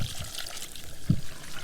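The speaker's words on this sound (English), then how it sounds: "I'm going to get all of the sediment back up into my stock and then pour it in" Vegetable stock carrying stirred-up sediment is poured into a pan of vegan gravy, giving a soft, close trickling and splashing of liquid with one brief heavier splash partway through.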